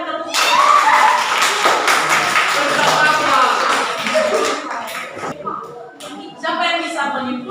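A classroom group claps for a student team that was praised during a teaching practice lesson. The dense, fairly loud clapping runs for several seconds, then thins out, with some talk and shuffling mixed in.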